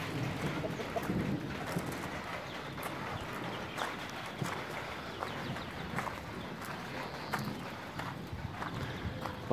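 Horse hooves clip-clop in a steady, uneven walking rhythm outdoors on a rural path, close and fairly loud, with birds and pigeons calling faintly in the background.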